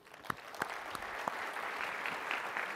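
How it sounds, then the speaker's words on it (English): Audience applause for a sound and video crew at a cloud technology conference session, a steady wash of many hands clapping at moderate distance, with a few sharper individual claps standing out early on. "a round of applause for the sound and video crew"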